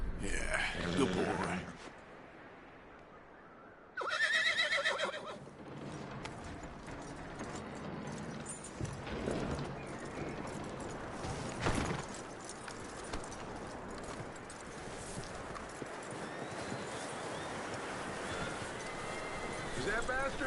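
A horse in a video game whinnies and neighs, with clip-clop hooves and a few other game sounds, heard close and fairly loud against a quieter background.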